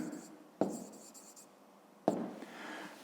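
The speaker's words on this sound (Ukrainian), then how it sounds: "записуємо замість ікса 7 сантиметрів" A hand writes out a math answer for a fifth-grade exercise, producing soft scratchy strokes close by, with two sharper taps as the pen meets the paper and the room otherwise quiet.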